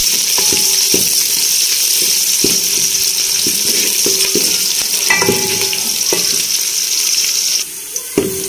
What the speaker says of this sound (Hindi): प्याज फ्राई कर लिया